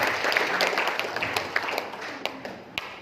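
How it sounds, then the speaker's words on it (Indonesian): Scattered applause comes from the audience at a presentation on a sharia-based economic partnership program. It starts as a busy patter, then thins into a few louder isolated claps toward the end. "Tepuk tangan untuk Bapak Ibu sekalian."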